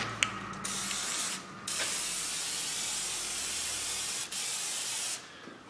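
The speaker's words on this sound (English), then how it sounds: "we'll give it a full douche of fluid film" Fluid Film rust protectant is sprayed from an aerosol can onto a Jeep Wrangler's front brake hose and bolt heads in several long, loud, steady hissing bursts separated by brief pauses.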